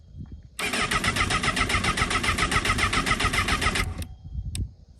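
A Honda CBR1000RR liter-bike engine cranks with a rapid pulsing starter whir for about three seconds, then cuts off abruptly, close and loud, followed by a brief faint click.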